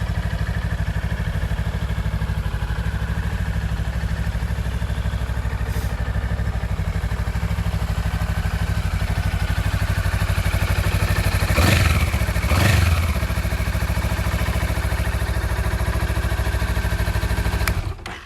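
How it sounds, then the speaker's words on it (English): A stock-exhaust Honda CMX 500 Rebel cruiser motorcycle engine runs at a steady, loud idle for nearly the whole stretch, with a couple of brief sharper bursts midway before cutting off near the end. "Lovely sounding bike as standard. Could benefit from an aftermarket exhaust."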